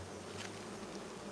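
Honeybees crowd over brood comb in an open hive, giving a low, steady buzz that stays faint and close for just over a second.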